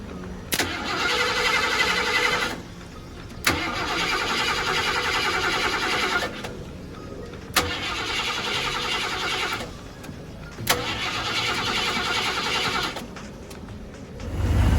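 A 1990 Ford F-150 XLT Lariat truck engine cranks and catches repeatedly, loud and close, with steady running stretches broken by sharp restarts and brief dips.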